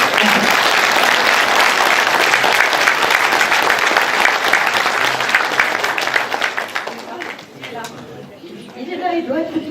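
A roomful of people at a French mayor's New Year greetings applaud a retiring employee, strong sustained clapping with murmured chatter that thins out near the end as a voice returns.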